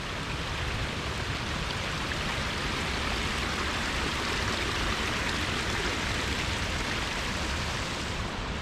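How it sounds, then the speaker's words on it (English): Small waterfall and stream along a walk in Scotland, a steady, close, dense rush of falling and flowing water that holds an even loudness throughout with no voices. "tiny waterfall here, massive waterfall down there"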